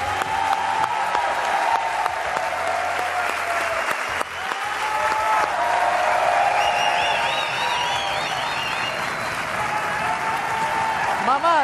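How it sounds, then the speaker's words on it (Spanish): Studio audience applause at a televised interview with a singer, a loud, dense wash of clapping and cheering that fills the whole stretch, with voices mixed in and a brief dip partway through. "Este aplauso do público é para ti, mamá"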